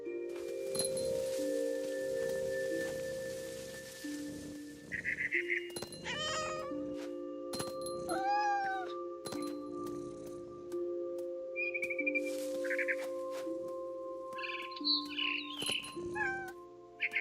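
A cat in the video game What Remains of Edith Finch meows repeatedly in clear, close, separate calls with drawn-out wailing tones, set over a steady low ambient hum and soft game sounds.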